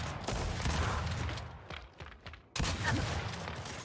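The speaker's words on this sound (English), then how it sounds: "there is another technique called over the cover shooting" Bursts of rapid gunfire from over-the-cover shooting in the Gears 5 video game, two dense volleys separated by a brief lull, loud and close.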